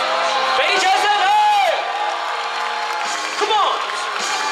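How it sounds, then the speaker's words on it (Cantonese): A live freestyle battle crowd gives a sustained roar of applause and cheering, loud and unbroken, with an amplified voice talking over it and pitched shouts rising through the noise. "俾啲掌聲佢"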